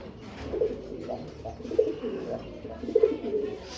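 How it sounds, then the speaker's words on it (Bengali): Pigeons coo at a farm of large, high-quality breeding birds, a few soft low calls at intervals over a faint murmur of background noise. "কবুতরের কোয়ালিটি অসম্ভব ভালো কোয়ালিটির কবুতর।"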